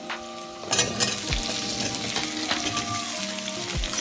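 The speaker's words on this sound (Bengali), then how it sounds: "এবারে হালকা নাড়াচাড়া করে এই আলুটা দিয়ে দিলাম," Potatoes are tipped into a frying pan and stirred, sizzling steadily in hot oil with a few scraping spoon strokes and clatters close by, no voices.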